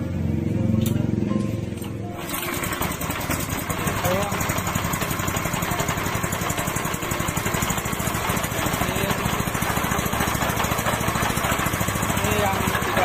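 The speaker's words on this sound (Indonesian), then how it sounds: "Kita hidupkan mesinnya dulu." A pellet-making machine's engine starts up and settles into a steady, loud, continuous mechanical roar that runs unbroken for the rest of the clip, with no speech over it.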